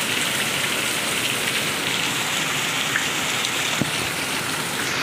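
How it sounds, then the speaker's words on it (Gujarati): Heavy first-of-monsoon rain pouring down steadily, a dense, loud, unbroken hiss of drops striking surfaces, with no talk over it. "એકદમ જોરદાર વરસાદ ચાલુ થઈ ગયો છે."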